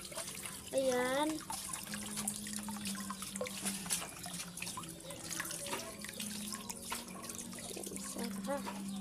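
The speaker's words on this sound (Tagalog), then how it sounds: "So, ito nga pala yung gripo natin i-off." A household faucet left open runs in a steady, hissing stream of water with small trickles and drips. A voice briefly speaks near the start.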